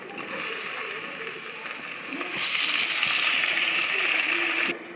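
Chopped tomatoes tipped into a pan of softened onions and mint for Chettinad chicken gravy, a soft steady sizzle that swells louder and brighter midway, then cuts off abruptly.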